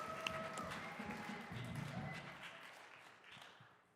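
An audience applauding a live band at a livestreamed faith event, a fairly faint spread of clapping that fades out over the last second or so.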